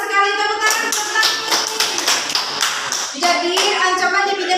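Schoolchildren in a classroom clap together in quick bursts, loud and close, with a brief pause before another round of applause.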